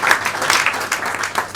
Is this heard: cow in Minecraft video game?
no